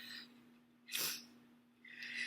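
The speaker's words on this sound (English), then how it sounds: "I've got to sneeze" A single sharp sneeze bursts out, close and fairly quiet, with soft breathing before and after against a steady low hum.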